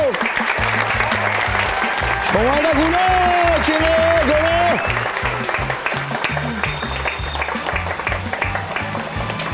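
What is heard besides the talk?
applause on a quiz show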